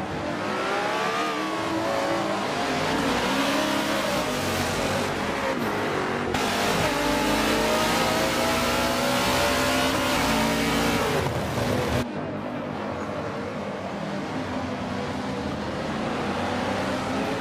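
Race car engines in a Forza Motorsport 7 race at Homestead, with an Aston Martin Vulcan ahead, a loud continuous engine roar with rising and falling revs and gear changes, close and steady throughout.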